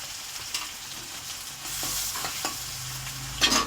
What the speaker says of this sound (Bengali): এরপর আমি দেবো আদা কাঁচা লঙ্কা পেস্ট করা আছে আগে থেকে